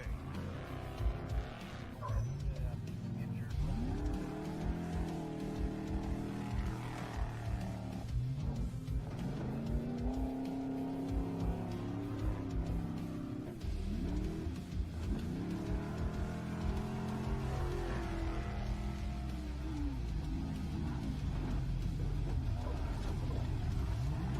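Off-road race trucks at the Baja 500 in Baja California, a loud continuous engine roar with repeated revving swells and shifting pitch, vehicles racing close by.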